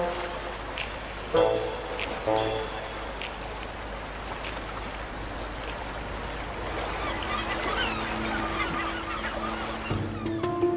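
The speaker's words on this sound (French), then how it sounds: "Les jeunes mouettes, elles, se moquent de la marée. Elles réclament à manger 24 heures sur 24." Young gulls call repeatedly while begging for food, their short honking cries clustered at the start and end over a steady rain-like hiss.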